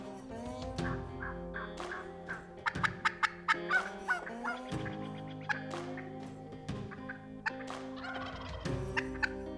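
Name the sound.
wild turkey hens calling near decoys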